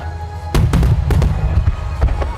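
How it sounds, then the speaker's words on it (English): Summer fireworks go off nearby in a loud run of sharp, booming bursts. Several overlapping explosions follow each other quickly, with crackling between them. "Wait, are those fireworks?"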